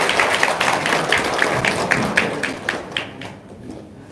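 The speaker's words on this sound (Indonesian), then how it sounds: "tepuk tangan yang paling meriah buat Bapak Haji Dwi Susanto" Lively audience applause in an indoor gathering for a guest of honour, with dense steady clapping that thins and fades toward the end.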